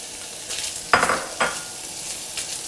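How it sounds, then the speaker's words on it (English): Onion and celery hitting hot bacon fat in a pan for roast chicken stuffing, a sudden loud sizzle burst followed by a second flare and settling frying hiss, no talk. "In goes the onion and the celery. And now I'm cooking that out for about 5 minutes on medium heat."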